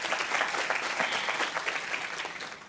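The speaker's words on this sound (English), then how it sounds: "round of applause" A conference crowd applauding steadily, dense clapping from many hands that continues for a few seconds with no voices over it.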